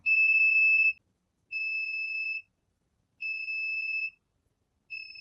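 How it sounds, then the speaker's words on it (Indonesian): Break-in detection system with a buzzer alarm beeping in steady, evenly spaced long tones, four pulses with silent gaps, shrill and clear with nothing else around it. "alarm akan berbunyi dan status pada LCD dobrakan"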